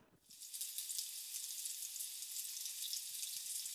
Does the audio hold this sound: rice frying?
yes